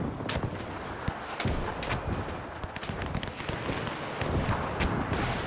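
Massed rifle and artillery fire rolls through a World War I strategy game battle, a dense, continuous crackle of many distant shots and bursts layered over a steady roar, moderately quiet with no speech.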